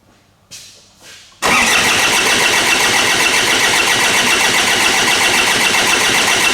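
A Ford Ranger / Mazda BT 50 with a crank-no-start fault: a couple of short starter bursts, then a long loud steady cranking drone that runs on without stopping, close up and with no voices.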